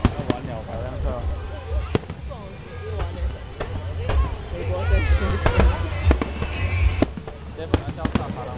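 Fourth of July fireworks burst in a series of sharp bangs and crackles at irregular intervals, fairly close, while several people chatter throughout.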